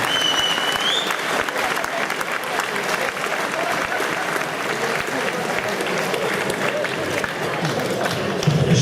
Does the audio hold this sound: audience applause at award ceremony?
yes